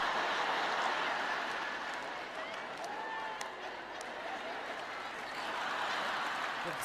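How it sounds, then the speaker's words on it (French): An audience at a Christian ministry teaching session breaks into sustained, moderately loud applause that swells and continues across the whole stretch. "L'applaudissement tarde à venir."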